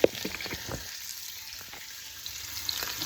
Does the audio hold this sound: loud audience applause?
no